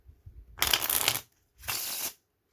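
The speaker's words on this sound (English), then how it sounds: "And let's try to shuffle." A custom deck of playing cards being shuffled in two distinct bursts of crisp, riffling card noise, the first longer than the second, heard up close against a quiet background.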